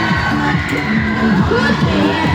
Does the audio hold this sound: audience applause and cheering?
yes